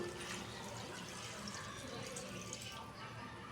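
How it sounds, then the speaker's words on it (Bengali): Water pours into a vegetable and prawn curry in a pan as a short, steady, quiet splashing stream, with no talking. "এখন এটাতে আমি একটু জল দিয়ে দিব"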